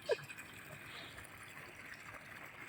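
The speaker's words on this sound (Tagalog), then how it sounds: "Malakas ang tubig." Steady rushing water flows throughout, a broad continuous wash of noise at moderate level with no voices.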